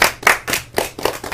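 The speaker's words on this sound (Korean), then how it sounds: "자 박수." A small group of people claps hands in a quick, uneven burst of loud, close claps during a casual live-streamed chat.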